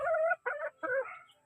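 A chicken recovering from fowl pox gives three short, close clucking calls in quick succession, with brief gaps between them and no other sound around.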